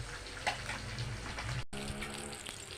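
Water splashes as it is poured over a batch of cut helencha greens being washed, a steady close rush with a few brief spikes and no talking.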